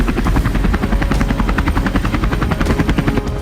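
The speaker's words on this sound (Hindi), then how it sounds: "अमेरिका के मिलिट्री बेस पर चिनूक हेलीकॉप्टरों से सैन्य साजो सामान पहुंचाए जा रहे हैं।" Chinook helicopters working at a US military base in snowy Arctic conditions, rotor blades thudding in a fast, even rhythm over a heavy turbine drone, loud and close throughout.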